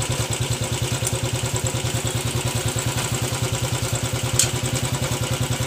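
A Royal Enfield Classic 500 motorcycle engine runs in fifth gear, thumping in a steady, even, rapid rhythm with mechanical clatter. It is close, consistent and alone without speech.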